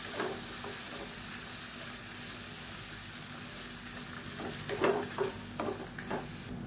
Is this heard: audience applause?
no